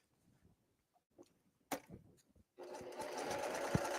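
A sewing machine stitches underlining to garment pattern pieces just inside a half-inch seam allowance, starting with a few short bursts and then running in a steady, fairly loud continuous whir for the last stretch.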